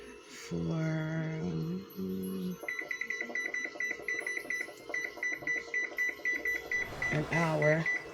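Kitchen timer beeping as it is set on a stovetop while cooking cornbread, a run of short, rapid electronic beeps in a rhythmic series, heard close up with a voice speaking over parts of it.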